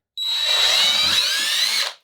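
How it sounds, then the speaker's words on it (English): A power drill bores down through a lined-up hole during a car speaker install, a steady high-pitched whine with a sharp tonal edge that runs loud and close for nearly two seconds, then stops. "then I can drill down"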